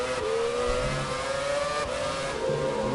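Formula One cars from Ferrari and Renault race in F1 2017, engines screaming at high revs with steady whine and gear-shift pitch changes, loud and continuous with no talk.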